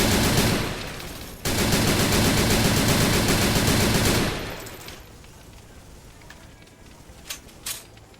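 A 12.7 mm heavy machine gun firing HE rounds in Arma 3 pounds out a loud continuous burst for several seconds, briefly pausing then resuming, before cutting off into quieter ambience with a couple of distant shots.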